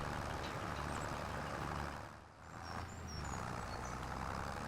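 Weak tractor engine in the Farming Simulator 25 video game, a steady broadband rumble with a low drone that dips briefly midway, then returns, loud and continuous with no talk.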